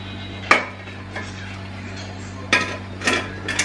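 Pots and utensils clatter as a pressure cooker is set up in a home kitchen, with a few sharp clinks and knocks standing out over a steady low hum.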